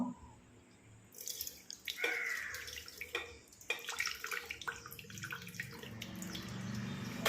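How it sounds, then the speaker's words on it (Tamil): Thick cream for homemade ghee being poured and scraped into a mixer jar, with wet plops and a few clinks, close and fairly quiet, no talking. "நாம் எடுத்து வச்சுருக்க அந்த ஏடை நம்ம மிக்ஸி ஜாரில் ஊற்றிக்குவோம்"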